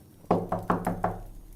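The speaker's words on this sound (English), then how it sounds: "there was a knock at the door" Five firm knocks on a wooden door in a quick, slightly uneven rhythm, close and resonant, each with a short hollow decay, in an otherwise quiet room.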